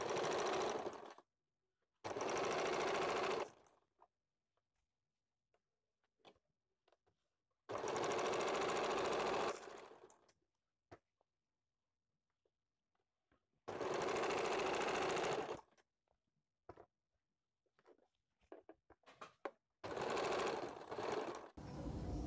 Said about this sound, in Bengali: সামনের পাট সেলাই করে নিলাম, এবার পেছনের পাটে দেখুন ভেতরের দিক থেকে আমি মেশিনে সেলাই করে নেব।